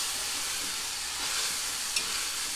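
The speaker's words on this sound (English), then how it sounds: "now we take our potato masher. And we just mash together" A potato masher works ground meat with onions, spices and melting butter in a pan under a steady sizzle and hiss, with soft mashing thumps and one brief sharp tap, and no speech.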